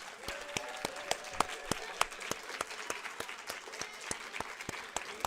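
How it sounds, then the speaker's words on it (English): Applause from an audience at a youth academy screening and celebration, steady clapping with sharp individual claps standing out, fairly close and sustained throughout. "So let's give one last round of applause to these amazing fellows."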